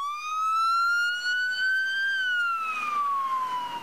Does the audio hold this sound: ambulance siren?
yes